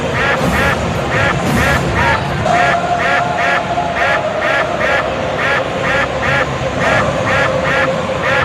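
Ducks quacking in a steady repeated rhythm, loud and close, over a noisy crowd at a Braves vs Mets baseball game in the Mets stadium; people talk underneath.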